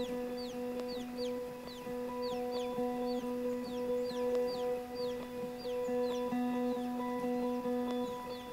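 Free-ranging chickens scratch around and cluck steadily in short, repeated calls, with a few higher squawks scattered over a constant low hum in the background.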